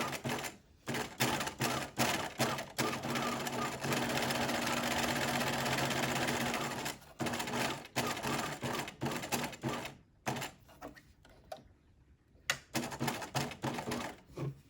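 A sewing machine stitches a half-inch seam on a one-piece welt pocket in long rapid runs broken by brief stops, the mechanical clatter loud and near.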